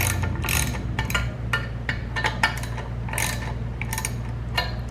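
A homemade valve spring compressor tool squeezes engine valve springs, giving a run of close, sharp metallic clicks and ratcheting ticks in uneven bursts over a steady low hum.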